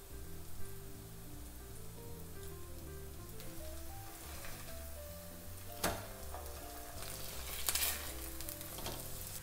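Korean potato pancakes (gamjajeon) browning in a pan over medium-high heat give a steady, close sizzle throughout, with a few brief crackling pops rising above the hiss.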